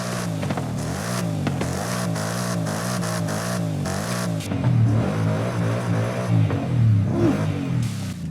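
A 5-litre V8 engine of a 2024 Ford Mustang Dark Horse in the video game Forza Horizon 5 revs and rumbles with a deep throaty tone, rising in pitch and then dropping to a loud, rough idle.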